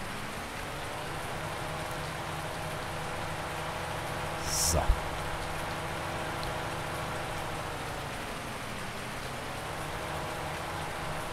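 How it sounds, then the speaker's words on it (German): Rain falls steadily in the video game Farming Simulator 19, a constant soft hiss of downpour with a brief sharp swish near the middle. "der Regen müsste bald durchgezogen sein"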